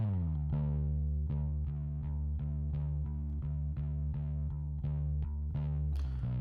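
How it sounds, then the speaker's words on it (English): Distorted bass line in a mix, played as a steady run of repeating plucked notes with a gritty, saturated tone, loud and continuous with no voices. "I want more distortion in this."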